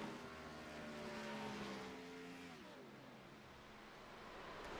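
A Camaro race car engine in a sim racing game at Darlington during an Xfinity Series race, heard from trackside as a loud, steady roaring drone whose pitch drops and shifts midway as the driver works the clutch, with no talk.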